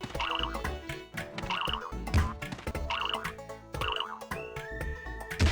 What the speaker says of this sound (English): every time you jump, it's paired with this boinging sound effect